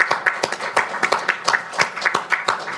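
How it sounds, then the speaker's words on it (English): At a panel event on protecting civilians in partnered military operations, a small audience applauds with light, sparse clapping, individual claps clearly distinguishable in a loose, uneven rhythm. "Maybe we can even begin with a little round of applause for what your organization does around the world."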